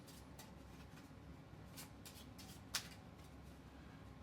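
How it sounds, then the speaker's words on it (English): A deck of playing cards is mixed by hand, producing soft, faint brushing and riffling flicks in a quiet room, with one slightly sharper snap near the end. "You mix these cards."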